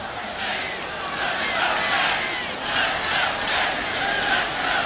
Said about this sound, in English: it's never good to be booed in your home arena